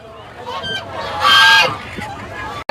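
Geese honk loudly at a poultry market, a single strong brassy honk peaking mid-moment over chicken clucks and busy market chatter, ending abruptly.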